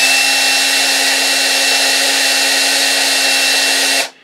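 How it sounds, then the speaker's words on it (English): A power drill spinning a Scotch-Brite pad on oiled hardware, a loud steady high-pitched whir that holds for about four seconds and then stops abruptly. "we'll just fire up the drill and let the Scotch-Brite do some of its magic"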